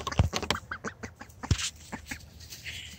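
A pet duck quacks close by in a rapid run of short, nasal calls, with two louder quacks standing out among the chatter and faint rustling in the background.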